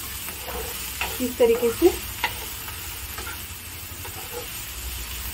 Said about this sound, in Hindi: इसको 2 से 3 मिनट तक अच्छे से चलाते हुए फ्राई करना है, इसे कंटिन्यू चलाते रहना है।